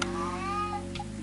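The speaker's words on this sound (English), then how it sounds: "My cat's going off." A house cat meows close by in a drawn-out, wavering call, then gives a shorter second cry, over a steady electronic hum from a game in the room.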